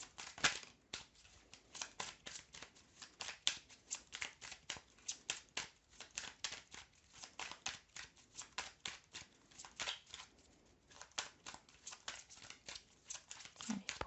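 Tarot cards shuffled and drawn by hand, a long run of soft, close riffling and slapping card sounds in irregular bursts, fairly quiet with no voices over them.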